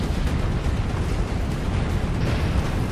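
A rocket launcher blast in the Resident Evil game, with Jill Valentine in her secretary dress, erupts as a loud, sustained roaring rumble that fills the whole few seconds.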